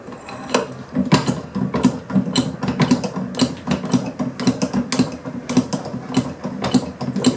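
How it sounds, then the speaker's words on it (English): A hydraulic floor jack under repair is pumped by hand in a fast, steady rhythm of close mechanical clicks and ratcheting knocks that repeat evenly throughout, with no talking. "pumping it up, I can see the oil level dropping a bit."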